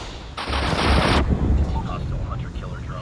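A sudden burst of rapid gunfire in Call of Duty Mobile gameplay, loud and close, followed by fainter scattered shots and sounds in the background.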